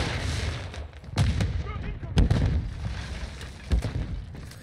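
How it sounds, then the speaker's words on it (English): A flash grenade and bursts of gunfire on the Shoot House map in Call of Duty Modern Warfare 2, with three sharp, loud blasts over a steady backdrop of battle noise. "Throwing flash grenade!"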